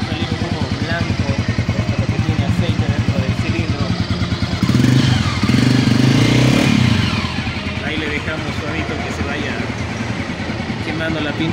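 A brand-new Loncin Rally 300 motorcycle engine runs up close with a steady rapid idle thump, swelling louder for a couple of seconds in a brief rev before settling back to idle, with voices talking over it.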